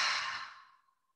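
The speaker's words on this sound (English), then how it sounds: "Let's draw in a deep, unifying breath together. Exhale from the throat." A single deep yogic exhale pushed through the throat, a close breathy rush lasting about a second before it trails off into silence.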